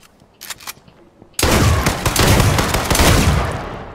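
A shotgun fires in a first-person shooter video game: a sudden loud blast that jumps in abruptly and rings on with dense, sustained noise, after a brief quieter stretch.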